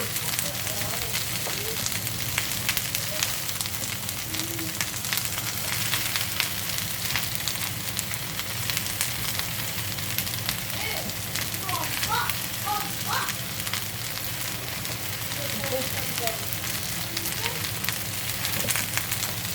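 Whole okra (bhindi) sautés in hot oil with a steady, dense sizzle and hiss that runs evenly from start to finish, with a faint voice in the background.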